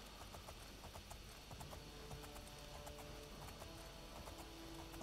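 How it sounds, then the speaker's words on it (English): Quiet, rhythmic clip-clop of wild horse hooves trotting along in the video game Oblivion, steady and a little distant, with faint ambient background and no talking. "Wild horses."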